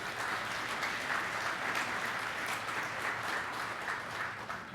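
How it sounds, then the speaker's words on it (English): Sustained, dense applause from an audience at the 2023 Corvette Hall of Fame members-elect announcement, steady and even throughout with no break. "Let's give a round of applause."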